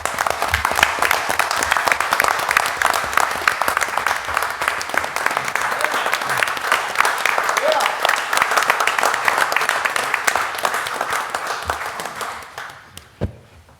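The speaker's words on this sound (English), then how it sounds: "So please give these guys a hand of applause" Sustained applause from the audience at a city council meeting, honoring city employees, loud and steady for about twelve seconds before tapering off near the end.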